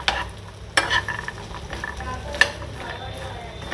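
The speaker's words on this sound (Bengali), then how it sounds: "যেন একটু মাখানা দিচ্ছি বাটারে ভেজে" Makhana (fox nuts) frying in butter in a pan, a soft steady sizzle with a few sharp clinks and scrapes of stirring, close and clear, with no talking.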